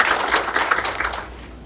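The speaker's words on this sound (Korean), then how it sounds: "큰 박수로 모시겠습니다." Applause from a forum audience in a Korean education policy panel discussion, a dense wash of many hands clapping that holds steady briefly and then fades out.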